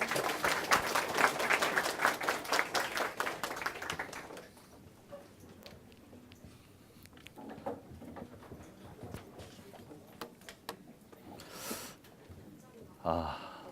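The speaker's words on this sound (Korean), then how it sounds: "큰 박수 부탁드리겠습니다" Audience members at an information security lecture during a job fair burst into loud, brisk clapping for about four seconds to welcome the speaker, then the room drops to a quiet murmur with a voice talking.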